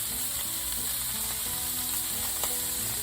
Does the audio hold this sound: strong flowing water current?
no